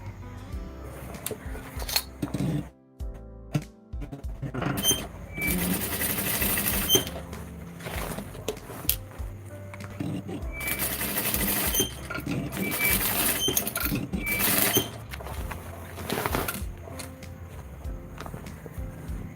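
A sewing machine stitches the waistband of a fishtail skirt in repeated short bursts of rapid mechanical clatter, interspersed with clicks and fabric handling between runs.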